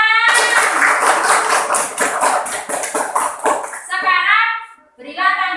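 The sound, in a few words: children clapping in a classroom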